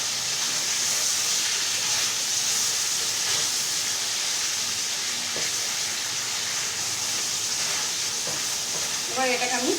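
Chicken pieces fry in a pan for chicken curry, a constant loud hiss and sizzle with occasional stirring clinks, steady throughout and ending with a short voice.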